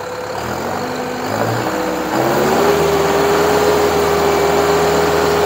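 A 2022 Deutz Fahr Profiline 80HP 4WD tractor idles after being restarted, a close steady diesel rumble that steps up slightly and settles into an even hum with a rising whine, no speech.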